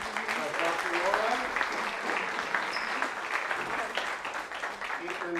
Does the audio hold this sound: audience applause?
yes